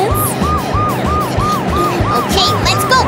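A loud cartoon ambulance siren wails in fast, repeating rise-and-fall cycles close by, over a low rumbling engine.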